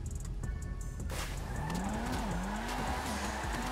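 A car in GTA 5 slides with the handbrake held, tires squealing in a long, wavering screech over a steady engine drone, loud and close with no talking.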